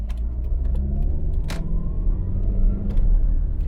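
A 1989 Ford Telstar TX5 Ghia pulls away with a low engine rumble that rises through a rough gear change, one brief clunk partway, steady cabin drone with no voices.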